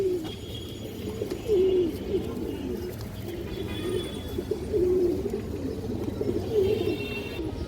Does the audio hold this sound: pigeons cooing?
yes